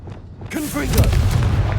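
A Confringo fire spell from Hogwarts Legacy goes off with a sudden booming burst, followed by a roaring, crackling rumble that holds for over a second, with a short voice just before the blast.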